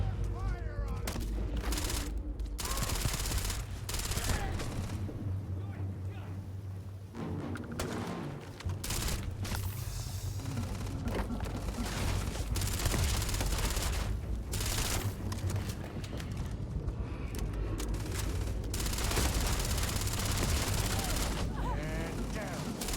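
Sustained gunfire from a firefight in the video game Starfield, dense bursts and rapid shots near and loud throughout, with voices calling out over the shooting.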